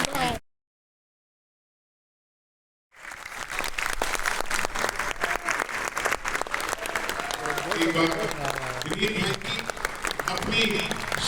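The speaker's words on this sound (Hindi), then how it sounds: "एक बार दिल से तालियां दीजिए" An audience at a poetry recital in Rohtak breaks into sustained, dense applause after a brief pause, the clapping holding strong and steady to the end.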